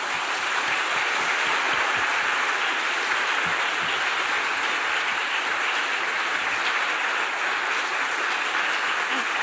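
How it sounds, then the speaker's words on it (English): A closing-ceremony audience at the ESIL 2016 conference applauds young Latvian lawyers, a dense, sustained wash of many hands clapping at steady loudness throughout, with no voices on top. "if we could really applaud to all of them"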